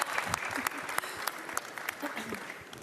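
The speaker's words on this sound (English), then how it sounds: "Another round of applause, guys, please." Applause rises for the hosts on stage at the 2026 FIFA World Cup final draw, a steady wash of clapping from a large crowd with voices talking over it throughout.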